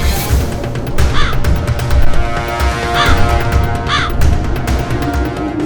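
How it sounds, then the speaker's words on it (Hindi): A crow caws loudly and close, giving repeated harsh calls spaced about a second apart over a dense, buzzing background. "काक, मेरे वाहन, शीघ्र उपस्थित हो"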